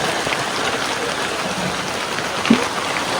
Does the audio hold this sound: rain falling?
yes